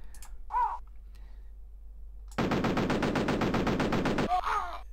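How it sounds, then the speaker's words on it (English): Rapid automatic gunfire from soldiers in the 1993 DOS game Cannon Fodder: a loud, dense, steady burst of shots lasting about two seconds, with short chirping calls before and after. "You're meant to sort of run through and shoot everybody dead like that."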